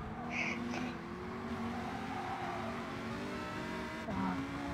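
A race car in a racing video game spins out, its engine droning steadily under high tire squeals and skidding, with a brief chirp near the end.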